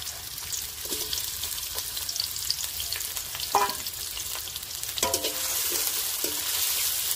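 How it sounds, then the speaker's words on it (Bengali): Chopped onions dropped into hot oil in a home kitchen for Bengali aloo chop filling, giving a steady frying sizzle with brief stirring clatters and a louder hiss near the middle and end. "প্রথমে তেল দিয়ে দেবো, দিয়ে দিচ্ছি পেঁয়াজ কুচি।"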